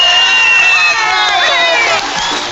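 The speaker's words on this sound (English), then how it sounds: "Can't you hear that applause?" Cartoon audience cheers and applauds a performance, a loud, dense crowd roar with whoops and shouting held steadily throughout, no clear individual claps standing out.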